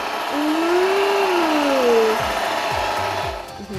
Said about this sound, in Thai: เสียงเครื่องตัดหญ้าโคตรดัง